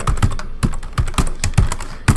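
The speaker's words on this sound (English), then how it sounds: "type your email that you created in here" Rapid clicking of keys on a computer keyboard as an email address is typed, a close, steady burst of uneven keystrokes with no talking.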